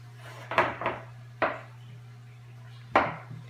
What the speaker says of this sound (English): put your spoon in the bowl and shake the pan